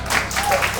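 Brief burst of clapping from a comedy club audience during a stand-up set, close and fairly loud, lasting under a second.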